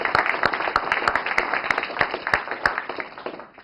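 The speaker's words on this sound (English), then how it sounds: "I would actually want everybody to thank with a big round of applause to Laura and Jamie" Conference crowd applauding at an Ubuntu community talk, a steady patter of many hands clapping at moderate distance with a few sharper individual claps standing out, fading slightly toward the end.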